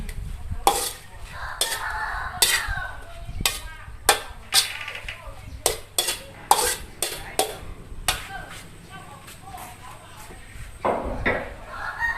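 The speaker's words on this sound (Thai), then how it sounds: "ผัดพริกหยวกใบกะเพรากุ้งปลาหมึกจ้ะ" Bell pepper, holy basil, shrimp and squid are stir-fried in a wok. A spatula strikes and scrapes the pan in sharp, irregular clanks over a soft sizzle, with a voice talking in between.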